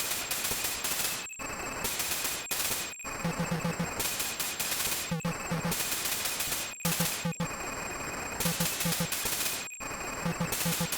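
Enemy gunfire in Capcom's Mercs arcade game: rapid machine-gun bursts crackle in repeated volleys, broken by short silent gaps, set against a constant buzzing electronic tone.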